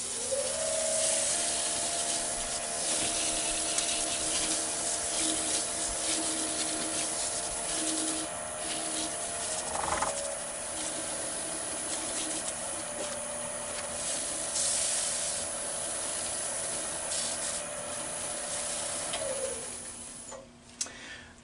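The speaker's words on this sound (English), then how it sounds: "It's gone tacky, so I'm going to start buffing that in." Wooden bowl spinning on a woodturning lathe while a food-safe finish is buffed in, giving a steady close rubbing whir over the motor's constant hum, with a brief tap partway through.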